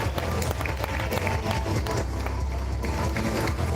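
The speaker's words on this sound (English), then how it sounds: "Big round of applause, Corey, Alex, and Ethan." An audience at an arm wrestling tournament claps in a dense, steady burst of applause, with crowd noise mixed in throughout.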